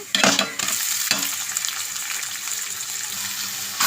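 Amaranth leaves tossed into hot tempering oil in a pan sizzle loudly and steadily while being stirred, with a burst of crackling at the start and scraping stir sounds throughout, close up with no voices.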